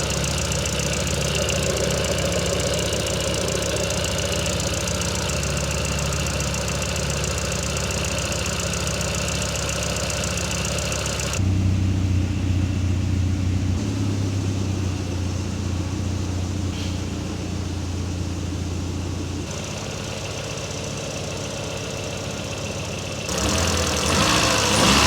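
Car engine running at its first start-up in over four years, a rough, knocking idle with a low rumble that shifts in tone partway through, steady and close with no voices over it.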